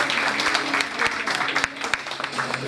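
Audience applause for a high-school dance pair at a school event in Sibiu rises in a steady patter of clapping, with a voice talking over it partway through.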